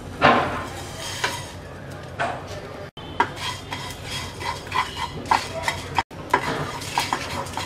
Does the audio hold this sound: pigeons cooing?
no